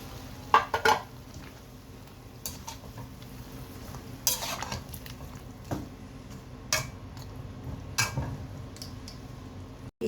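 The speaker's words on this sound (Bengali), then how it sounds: "চিকেন ভাজা হয়ে আসছে এখন অ্যাড করবো পেঁয়াজ কুচি" Quiet background sizzle of chicken frying in a pan, punctuated by sporadic clinks and scrapes of a utensil against the pan; no talking.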